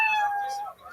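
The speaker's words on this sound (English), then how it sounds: "You know 60 seconds is up when you hear the sound of a kitty." A single cat meow plays as a sound effect marking that time is up, a clear, close tonal cry that rises and then fades out within a second.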